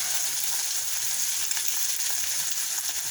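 Eggs with Spam and vegetables fry in a pan with a steady, dense sizzle close by. The frying hiss stays constant and crackly throughout, and no clear flip or scrape stands out above it.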